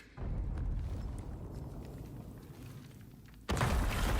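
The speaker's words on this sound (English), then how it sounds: "That explosion didn't line up at all with the noise." Explosion in a video game: a deep booming burst starts abruptly, fades into a rumbling tail, then a second loud blast hits sharply near the end.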